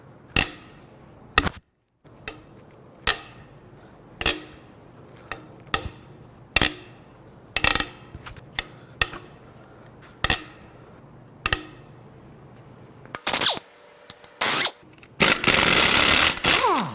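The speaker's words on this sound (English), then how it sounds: "Time to crack the head bolts loose." A socket wrench or breaker bar cracks loose the head bolts on a Ford 302 small-block V8 from a Mustang 5.0 during teardown, giving a series of sharp, loud metallic snaps and clanks spaced a second or two apart, with ratcheting clatter near the end.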